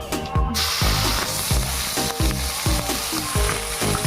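Mustard seeds, ginger and green chilies sizzle and crackle in hot oil, a loud continuous fry with repeated sharp spattering bursts close by, no voices.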